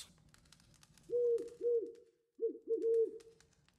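A pet bird in The Witcher 3 video game gives four soft, hollow, cooing calls in two pairs with short pauses between them, heard close over faint background sound.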